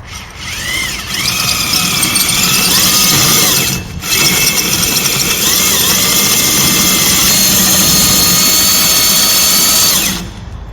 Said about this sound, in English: And now we start drilling the hole.